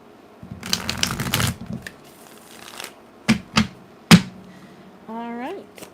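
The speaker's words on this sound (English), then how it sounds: "One more shuffle for the Pisces gang." Tarot cards are shuffled up close: a long, dense riffle of card edges, then a few sharp separate snaps and slaps, ending with a short rising vocal tone.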